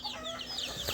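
Young chicks, Araucana among them, cheep in a quick series of high chirps, close by and fairly clear, with no talking.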